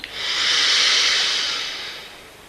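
A single deep, drawn-out inhale during a breathing exercise, a loud airy rush that swells and slowly fades over about two seconds, close to the microphone with no talking.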